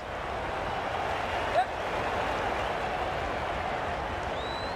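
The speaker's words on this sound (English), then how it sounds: "The crowd are really getting quite raucous." Steady, noisy crowd roar fills a stadium in the Cricket 22 video game, a USA versus England run chase, holding at one level throughout, with a brief louder rise near the middle.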